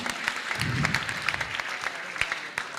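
Audience at a Pan African cultural event in Lukenya claps for performers, a brief, steady burst of applause with individual claps popping out and a hint of voices underneath.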